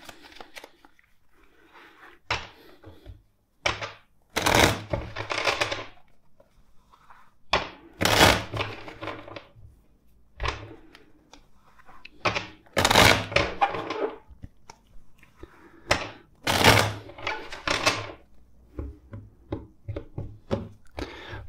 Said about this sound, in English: let's shuffle four times